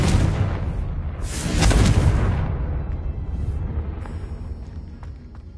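Confringo blasting spell in the Hogwarts Legacy video game, a loud booming burst with a rumbling tail that fades, followed by quieter game effects.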